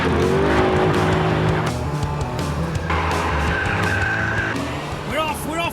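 A 500-horsepower Ford Mustang launches hard off a start line in a race, its engine roaring loud and close with tire squeal and gear changes, and excited voices break in near the end.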